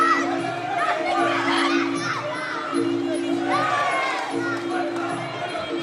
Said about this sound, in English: You can just hear the crowd every time Andy lands something, reacting to everything he does.